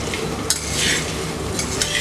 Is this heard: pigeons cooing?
no